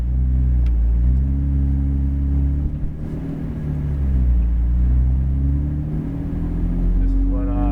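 A Porsche GT3 RS engine idles with a loud, steady low rumble and slight rises in pitch as the car pulls away, with people talking over it throughout.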